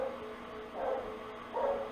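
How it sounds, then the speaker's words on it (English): A dog barks twice somewhere else in the house, muffled and fairly distant, over a steady electronic hum from nearby computer equipment. "My dog's barking"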